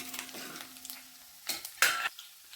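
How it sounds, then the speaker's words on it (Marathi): Raisins and charoli are sautéed in ghee for Ram Navami shevaya kheer, with faint sizzling, a low hum, and a few scraping stirs and clinks of a spoon against the pan. "मनुके चांगले परतून घ्यायचे आहेत."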